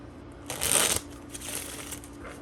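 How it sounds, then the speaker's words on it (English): A deck of tarot cards is shuffled close by, one brisk riffle followed by softer card handling over a low steady hum. "let's shuffle this up"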